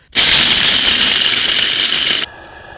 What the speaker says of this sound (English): So let's blend these up.